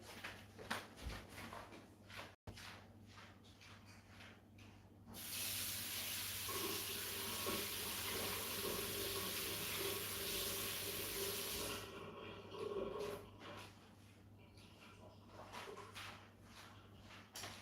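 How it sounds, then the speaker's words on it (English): A tap runs into a sink while hands are washed under it: a steady rushing hiss of water for several seconds, framed by quieter splashing and handling noises before and after. "So let me just wash that off quickly."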